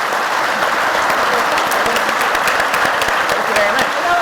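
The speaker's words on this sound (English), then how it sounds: "Round of applause for our panel." A conference audience at a buildings and plants summit plenary claps for a panel, a dense steady roar of applause from a sizeable crowd that holds evenly throughout.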